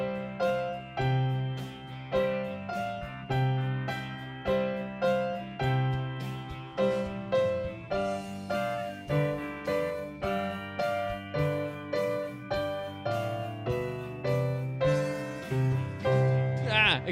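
Piano plays A-Tisket A-Tasket with extra chord tones added, a bouncy left-hand bass pattern under bright melody notes in a steady swung rhythm, played alone at moderate volume.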